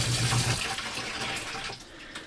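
Hot water runs steadily from a tap fed by a Thermomate ET110 tankless water heater, a continuous close splashing flow that eases slightly toward the end, with no voices.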